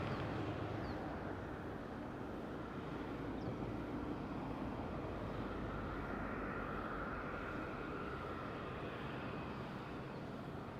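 A fixed-wing airliner lands on runway 23 at Madeira Airport, its steady broadband engine roar and rush sustained at an even, loud level throughout with no talk over it.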